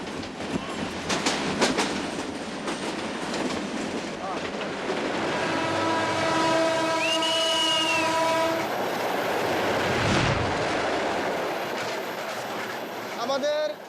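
Loud rumble of a moving train in Bangladesh with rhythmic clatter on the tracks and a long horn blast midway, heard from up close on the roof.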